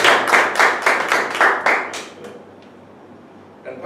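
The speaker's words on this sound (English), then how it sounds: "you can applaud him again" At a club meeting, an audience gives a quick round of applause: about eight crisp, evenly spaced handclaps that end abruptly and leave a quiet room, with one faint tap near the end.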